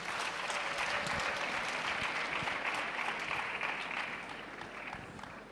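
Steady, dense applause from a crowd at a World AIDS Day event in Rwanda fills the whole stretch, slowly fading near the end with no voices over it.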